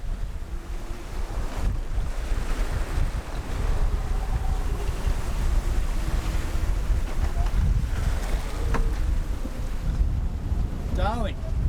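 Wind and breaking waves roar steadily around a sailboat at sea as a squall approaches, a dense continuous rush with brief creaks and a short whistle near the end.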